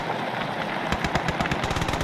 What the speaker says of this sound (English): Look at that, the cannon's going crazy because I'm controlling it.